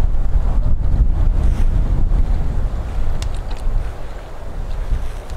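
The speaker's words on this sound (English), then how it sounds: "Oh man, she's windy though." Strong wind gusting outdoors at a campfire on an abandoned airfield, with constant low buffeting roar and rumbling microphone wind noise throughout, loud and close with no talk.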